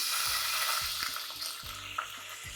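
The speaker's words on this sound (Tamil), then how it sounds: "இது மாதிரி நம்ம கத்திரிக்காய் நல்லா கலர் மாறுற வரைக்கும் நல்லா வதக்கிக்கலாம்." Eggplant pieces frying in oil in a pan, a steady close sizzle with faint stirring scrapes and no voices.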